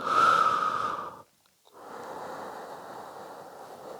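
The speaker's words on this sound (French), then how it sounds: "Je souffle. Inspire." A long audible breath out during a Pilates exercise, then a brief silence and a steadier breath in, both close and breathy with no talking.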